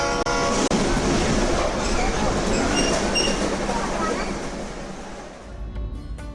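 A train rumbles through a busy railway station in Bhopal before 1984, a heavy, broadband roar of rolling wheels and carriages that stays loud, then gradually fades away.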